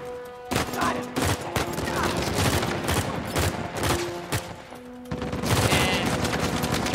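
Gunfire in Uncharted 4, irregular bursts of shots and sharp cracks over a steady game soundscape, with brief lulls between volleys and a heavier stretch at the end.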